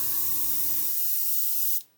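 Gaahleri GHAC-98D airbrush spraying with the trigger pulled back and air flowing, a loud steady hiss that cuts off abruptly near the end, heard alone.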